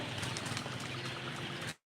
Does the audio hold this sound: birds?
yes